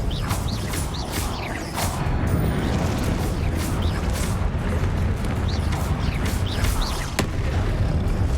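Confringo blasting spells in Hogwarts Legacy detonate as a steady run of rumbling booms and crashes, close and fairly loud, with sharp impacts scattered across a continuous low roar.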